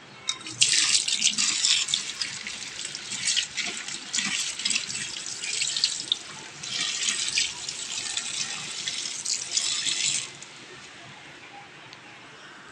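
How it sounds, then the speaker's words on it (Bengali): Tap water runs over coriander leaves being washed in a basket, a near, splashy hiss that surges and eases in bursts before stopping toward the end, with faint voice in the background. "ধনে পাতাটাকে ভালো করে ধুয়ে নেবো"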